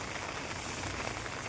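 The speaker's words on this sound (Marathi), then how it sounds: "बघा, हे पाऊसच उघडत नाही." Steady rain falling on a farm with soybean fields, a dense even hiss close by with no breaks.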